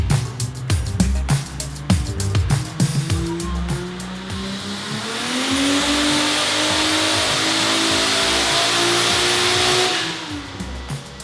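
A Toyota Supra race car making 630 horsepower at 21 pounds of boost blips its engine in a series of sharp revs, then holds a long steady high rev before dropping back, loud and close.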